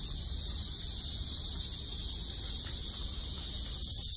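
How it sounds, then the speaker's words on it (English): A dense, steady high-pitched buzz of cicadas fills the air continuously, loud and unbroken throughout. "a lot of cicadas making a lot of noise"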